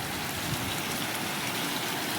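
The first rain of the season falls in a steady, even hiss of drops on surfaces, constant and moderately close with no other sounds.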